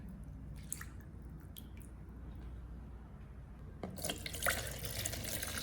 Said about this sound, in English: Drain the water used to soak the rice and pour it into the rice cooker.